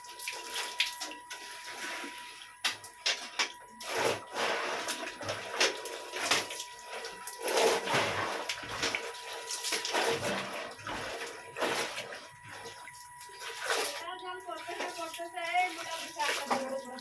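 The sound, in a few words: water running while washing dishes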